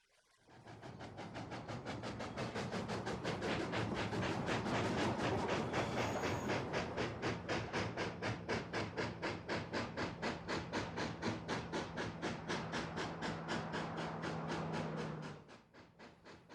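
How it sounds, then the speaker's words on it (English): A narrow gauge model freight train rolls past steadily for about fifteen seconds, a fast even clickety-clack of wheels on rail joints under a soft hiss, close and fairly constant before cutting off. "our narrow gauge freight train passes in the background"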